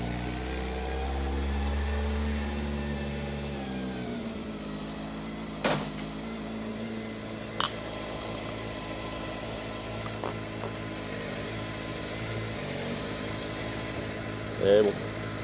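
A car engine with worn-out brake pads idles with a low steady rumble, then settles into a quieter hum after a brief drop, with a few faint clicks and knocks over the top.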